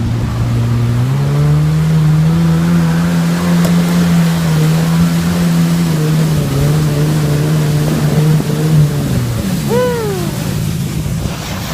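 A small dirt bike engine runs close by with a steady droning hum for several seconds, then drops and gives a quick rising-and-falling rev near the end.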